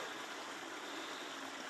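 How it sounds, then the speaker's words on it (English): Creek water flows in and drops into a deep hole, a faint, steady broadband rush of splashing and trickling with no other sounds. "Water comes in and drops into a deep hole where crawdads are."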